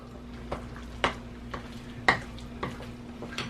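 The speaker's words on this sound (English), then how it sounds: "Now we're going to stir" A spoon works through a ground turkey burger mixture with breadcrumbs in a bowl, giving soft, wet scraping strokes roughly every half second with a few sharper clinks against the bowl, faint against a low steady hum.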